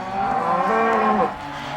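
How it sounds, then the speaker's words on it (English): Cattle low loudly in a corral after the cows were sorted off from their calves, several overlapping drawn-out moos filling the clip up close before easing off near the end. "that was just a process of sorting the cows off from the calves"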